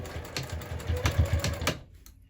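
A sewing machine runs close up along the stitching line of a Divina handbag, a rapid, steady mechanical chatter of stitches lasting about two seconds before it winds down and stops.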